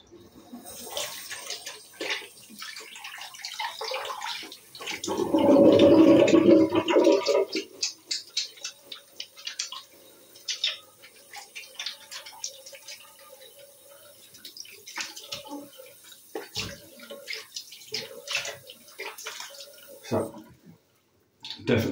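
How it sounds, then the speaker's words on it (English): Tap water runs over hands in a bathroom sink after a shave, a loud splashing rush in the middle that gives way to lighter dripping and patter near the end. "Yep, definitely need to wash my hands now."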